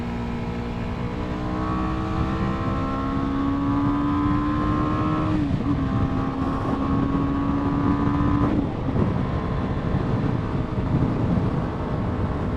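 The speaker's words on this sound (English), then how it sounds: "Let's see if you can do highway commuting with the G310R." A BMW G 310 R motorcycle cruising on a highway at speed: a steady engine drone with harmonic whine, brief dips in pitch like gear shifts or throttle changes, and heavy wind rush throughout.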